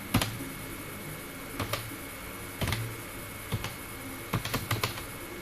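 Sparse clusters of crisp clicks come from typing on a computer keyboard in MS Word, with a few keystrokes at a time separated by short pauses in a quiet room.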